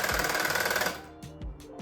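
An electric rug tufting gun punches yarn into stretched fabric with a loud, rapid mechanical buzz that runs steadily for about a second and then cuts off, followed by a few quieter clicks and thumps of handling.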